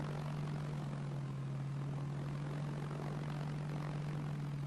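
An aeroplane engine drones steadily after takeoff in Arma 3, a constant propeller hum with a strong low tone and broad rushing noise, unchanging and without talk.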